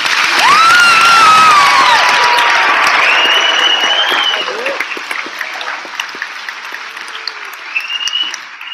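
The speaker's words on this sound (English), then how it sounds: "Please join me in a round of applause for" A graduation ceremony audience breaks into loud, sustained applause with some cheering and whistles, strongest at first and then thinning into scattered clapping.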